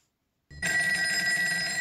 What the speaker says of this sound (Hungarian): meghallottam, hogy cseng a telefon